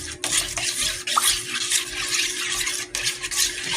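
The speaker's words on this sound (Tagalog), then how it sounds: "Siguro matagal natin haluin yan hanggang sa yung asin ay matutunaw talaga." Coke, salt and dishwashing liquid being stirred to dissolve the salt, a steady scraping swish with occasional clinks of the utensil against the container, close and continuous without talk.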